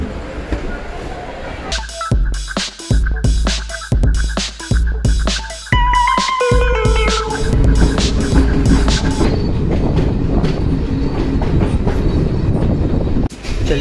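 A passenger train on the Katra to Kalka route moves off, its wheels clicking over rail joints in a rapid rhythmic clatter that settles into a steady loud rumble, with voices talking nearby.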